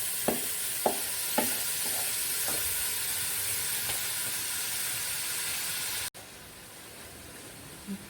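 Rice being stirred into ghee with lightly sautéed vegetables for a mildly spiced corn rice, giving a steady close sizzle and hiss with a few sharp spoon scrapes early on, then a quieter simmer.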